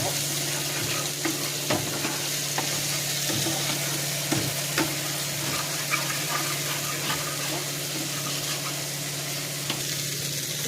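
Ginger and green chilli frying in an oil-filled pan, a steady close sizzle with scattered small pops and scraping stir sounds throughout, no voices.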